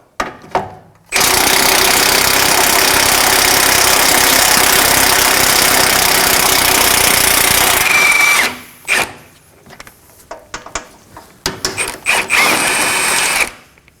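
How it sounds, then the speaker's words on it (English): A power tool spins a 22mm socket to remove a bolt on the front lower control arm of a 2014-2020 Acura MDX, with one long loud continuous run followed by several short bursts. "we're going to remove this bolt using a 22mm socket"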